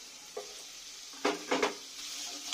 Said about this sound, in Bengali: আমি ভালো করে সবগুলো একটু নেড়ে ভেজে নেব